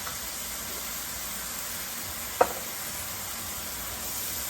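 Tomatoes sizzling in a hot frying pan, a steady hissing fry with one brief clack of a utensil midway, no voices.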